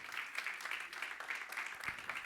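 A church congregation claps for the Lord during a baptism service, fairly faint and distant, a steady rolling patter of many hands without clear voices.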